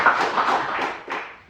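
Audience at an NHRA drag-racing announcement event claps in a short, uneven burst of applause that thins out toward the end.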